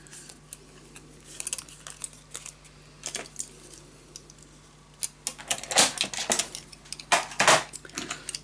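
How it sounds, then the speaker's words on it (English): Paper pieces being cut out for a mini album, scissors snipping in scattered, irregular crisp clicks and rustles, sparse at first and then denser and louder, close up with no talk. "And I'm going to cut it out."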